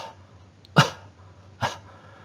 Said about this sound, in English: Here, the cough is gentle with open glottis.